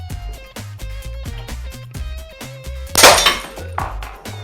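A 1-inch steel ball bearing of about 67 grams is dropped onto a plain glass pane, giving a loud sharp crash and scatter of breaking glass over a steady rhythmic musical background.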